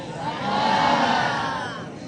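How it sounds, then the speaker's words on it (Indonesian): Audience applause at a Kecak dance show in Bali, a broad wash of many hands clapping that swells to a peak and then eases off slightly, with faint crowd voices beneath. "Terima kasih tepuk tangannya."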